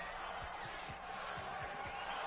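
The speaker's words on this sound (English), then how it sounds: "The crowd seems to be getting into it. Listen to it." Crowd at the 2013 Mr Olympia bodybuilding contest, a steady wash of cheering and shouting from a large audience, continuous and loud throughout without a break.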